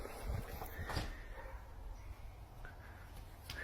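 A dog barks a few times at a distance, faint and muffled over a low outdoor rumble.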